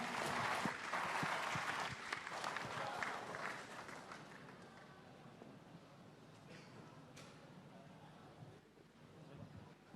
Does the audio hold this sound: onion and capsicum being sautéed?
no